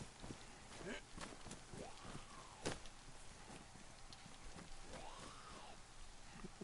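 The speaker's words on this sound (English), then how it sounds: "It's raining." Steady rain in the video game DayZ patters across the whole stretch, a dense hiss with scattered drops, while soft footsteps and faint talking sit underneath.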